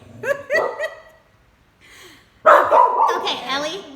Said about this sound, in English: Oh, now the other dogs are barking.